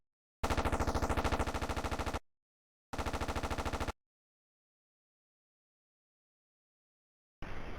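Corsair fighter guns in the flight combat game Aces High fire one long rapid burst of roughly two seconds, then a shorter burst about a second long after a brief gap. Both are loud, dense and mechanical, with silence around them.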